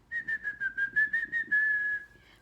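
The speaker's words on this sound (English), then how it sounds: "Can you whistle?" A person whistles a steady tune, a run of short pulsed notes followed by one longer held tone, clear and close with no talking over it.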